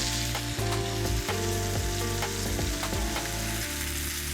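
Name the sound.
onions frying in a pan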